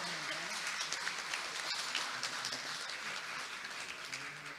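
An audience at a televised school quiz final claps for a cheque being presented to an educational institution, a continuous, somewhat distant patter of applause that fills the whole stretch.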